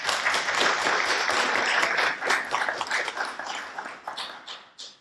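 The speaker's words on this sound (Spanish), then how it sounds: "quiero que le demos un aplauso" Audience applause welcoming a speaker at an academic presentation on epidemics and urban health, steady dense clapping that thins out and fades over about five seconds.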